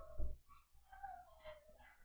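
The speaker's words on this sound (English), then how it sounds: "Do y'all hear this nonsense? That's Connor howling" A dog howls in wavering, drawn-out tones after a short low grunt, faint and somewhat distant, with no talking.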